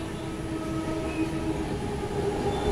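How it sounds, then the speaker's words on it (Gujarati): A Porbandar–Shalimar Express train departs from Nadiad Junction, a steady close rumble and rolling clatter of rail cars with a faint hum running through. "અત્યારે મારી પાછળ છે પોરબંદર શાલીમાર એક્સપ્રેસ"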